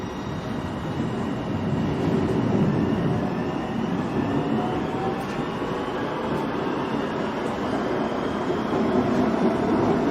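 A Manchester Metrolink tram on a Bury service runs steadily along the track, a continuous rumbling drone with faint electrical whine from inside the car.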